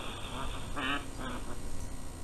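A few nasal quacks from ten-week-old ducks sound over a steady outdoor background hum, brief calls clustered near the middle.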